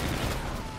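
Dense gunfire in the shooter game Call of Duty: Infinite Warfare, a rapid, continuous burst of shots sounding loud and close throughout, with no voices over it.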